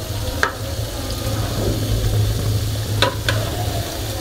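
Cauliflower pakoras frying in oil while being flipped in the pan, a steady close sizzle with a few sharp utensil clinks and scrapes, no voices.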